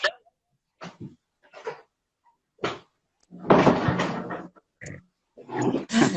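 A house door is opened to let a cat in, several separate clicks and bumps of the handle and frame, followed by a louder scraping rush, heard close by in an otherwise quiet room.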